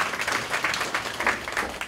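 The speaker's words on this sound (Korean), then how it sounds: "큰 박수 부탁드립니다" Audience at a college admissions strategy seminar breaking into warm applause for the speaker being introduced, a dense wash of many hands clapping continuously throughout.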